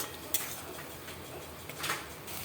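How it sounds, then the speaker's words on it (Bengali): Ground spice paste and tomato being stir-fried in a pan. Quiet, steady frying noise is punctuated by a few faint scrapes and clinks of a utensil against the pan. "মশলাটা ভালো করে আমি এবার কষিয়ে নেব"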